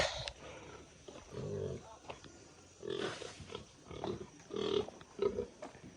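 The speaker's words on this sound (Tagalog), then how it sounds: "Ay, gutom na yung baboy" A hungry pig grunts repeatedly in low, rough bursts, close by on a small farm, with short pauses between grunts and some faint background noise.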